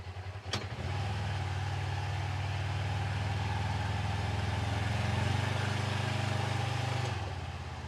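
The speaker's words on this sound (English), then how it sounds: "The engine's working, even just to move it a little." A utility vehicle's engine works hard while moving a load of rock, holding a steady, low, droning hum at moderate volume, with no talking.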